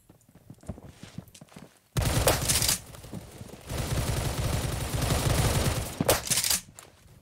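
Sustained automatic fire from a Stoner 96 light machine gun in the Phantom Forces shooter game, loud close bursts after a quieter stretch of footsteps, with sharp shots near the end.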